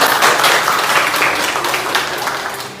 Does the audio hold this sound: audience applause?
yes